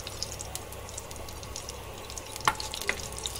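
Whole cloves, black peppercorns and cardamom pods frying in hot oil on a tawa, a soft steady sizzle with a few small pops and crackles.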